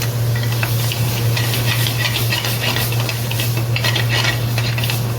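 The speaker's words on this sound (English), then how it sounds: "I'm just going to add a bit of braised gravy to that." Base gravy being stirred into a sizzling pan of mushroom bhaji, with a steady loud frying hiss, a constant low hum and light scraping of utensil against metal, and no talking.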